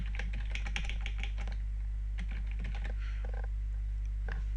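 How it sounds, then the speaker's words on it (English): A computer keyboard clicks as a username is typed into a server admin panel, giving irregular bursts of close keystrokes over a steady low electrical hum, with no talking. "I'm going to type in the username"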